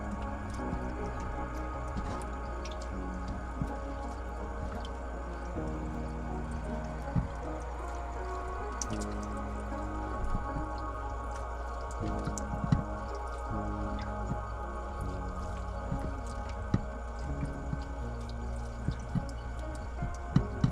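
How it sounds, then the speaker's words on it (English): Salmon roe rinses in a strainer under a cold tap, giving steady close running water with scattered small drips and wet squishing ticks throughout. "Next, I take a strainer and rinse all the roe under cold water."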